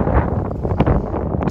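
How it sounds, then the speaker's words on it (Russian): Strong wind buffets a microphone outdoors near a hotel, a continuous broadband roar with gusting surges and no speech. "Тут так ветрено."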